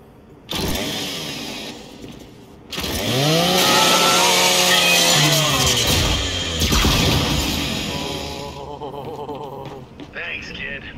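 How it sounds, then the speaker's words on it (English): Lancer rifle chainsaw in Gears 5 revving up and grinding loudly as it scraps a custodial robot, a sustained harsh buzz of several seconds that fades out, with voices talking before it. "Just use your Lancer's chainsaw."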